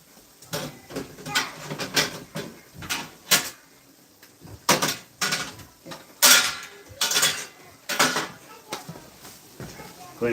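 Dishes and utensils clattering in a home kitchen during crock pot casserole prep, with repeated clinks, knocks and scrapes of pots and cutlery in irregular bursts, near and moderately loud, with a voice talking at times.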